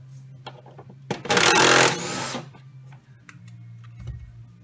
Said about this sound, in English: you're going to have to take those Allen screws out